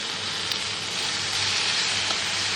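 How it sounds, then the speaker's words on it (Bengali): Hilsa fish curry with chopped tomato frying in a pan, giving a steady, close sizzle that holds even for the whole stretch with no voices. "একটু ভাজা ভাজা করে নেব।"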